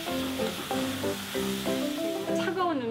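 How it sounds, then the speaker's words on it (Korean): Sun-dried vegetables stir-fried lightly in a pan over medium heat without oil, a soft steady sizzle with gentle stirring, fairly quiet, with faint background tones. "말캉한 식감을 살리기 위해 중불에 가볍게 볶아줍니다."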